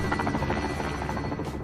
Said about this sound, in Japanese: ヘリガンナーがかなり見てるな。